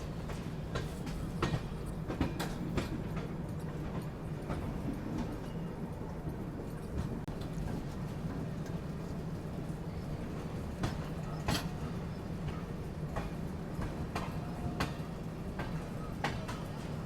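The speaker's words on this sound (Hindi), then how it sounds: "अपनी ट्रेन पहुंच चुकी है चंदौसी जंक्शन" A train rolls into Chandausi Junction railway station on the Subedarganj–Dehradun Express, heard from on board as a continuous low rumble with scattered clicks and clacks of wheels over rail joints, with no voices.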